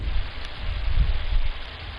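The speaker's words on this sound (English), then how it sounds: "that dang thunder" Rain falls steadily in the video game Gone Home, a constant close wash of drops with a low, rolling rumble of thunder swelling near the middle and fading out.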